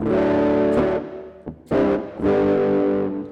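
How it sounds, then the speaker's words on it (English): Sustained electric guitar chords through a soft distortion effect on a Raspberry Pi effects pedalboard, with a soft, gritty tone, strummed three times with brief gaps between, loud and close with no voices. "soft distortion"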